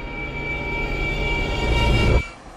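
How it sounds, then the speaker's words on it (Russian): A ChME5 eight-axle diesel shunting locomotive rumbles loudly nearby, engine drone and rail noise with steady whining tones building, then cutting off abruptly near the end. "Знакомьтесь, джентльмены, ЧМ-5, восьмиосный тепловоз"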